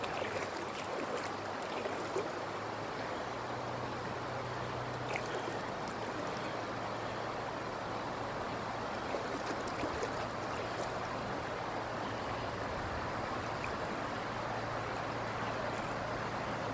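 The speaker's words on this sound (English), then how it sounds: "More rapids. Well, they ain't that bad. Little baby rapids." Small river rapids on the Green River while tubing, a steady broadband rush of moving water that stays constant throughout at moderate loudness.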